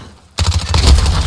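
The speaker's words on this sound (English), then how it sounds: "I'm shooting him, but I guess the dude on the roof got me" Rapid gunfire bursts in a Call of Duty: Modern Warfare hardcore team deathmatch on the Crash map, loud and close, erupting suddenly after a brief quiet moment and continuing in dense repeated shots.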